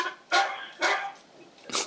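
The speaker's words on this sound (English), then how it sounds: "I hear the dog barking." A dog barks three times, sharp and fairly close, with short gaps between the barks and a quiet background.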